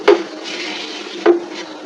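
Semolina frying in ghee with cardamom and cinnamon over low heat, stirred in a pan: a steady soft sizzle broken by two sharp scrapes or knocks of the spoon against the pan, close and without talk.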